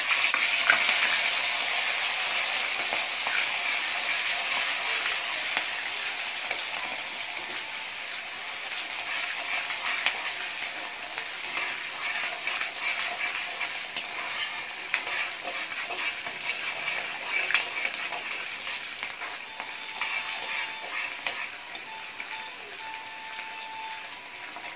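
About 150 grams of ground shallots, lightly salted, sauté in a pan with a dense, steady crackling sizzle that holds close and even throughout, broken only by faint stirring.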